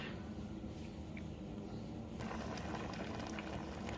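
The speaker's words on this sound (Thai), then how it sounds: "อืมกำลังเดือดเลยค่ะกำลังเดือด" A pot of catfish steaming on the stove bubbles away in a steady, low, continuous simmer, soft and close with a dense hiss of bursting bubbles and no talking.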